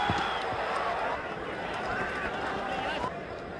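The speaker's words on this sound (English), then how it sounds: "The crowd is enjoying it." A stadium crowd at an India A versus Pakistan A Asia Cup cricket match cheers after a catch, a steady dense roar that holds throughout with a voice faintly over it.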